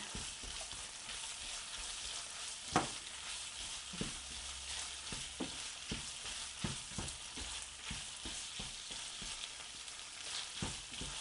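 Meat sizzles and fries steadily in a pan for Mexican sopitos, with a few sharp clinks and stirring knocks over a constant hiss as a small amount of sauce is added.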